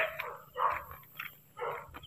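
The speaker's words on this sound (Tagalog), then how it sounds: "Ayun, maraming aso talaga dito," Several dogs barking along a rural road in the Philippines, three or four separate bursts of barks spaced apart at moderate distance, with no talk over them.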